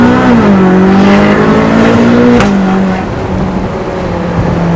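A roughly $100,000 car revs hard, its engine note climbing steadily and then dropping off with a brief sharp pop from the exhaust, loud and close with no talk over it.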